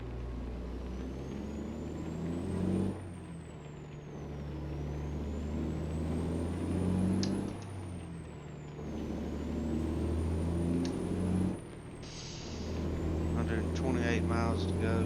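A truck engine in a driving video game drones and revs steadily, rising and dropping with gear changes, loud and continuous with a high whine over it.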